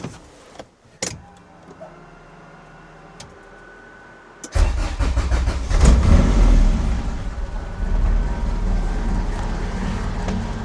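A Honda CRX engine cranks and starts after a quiet stretch, then runs loud and steady at a rough idle for several seconds, close to the microphone, with no talking.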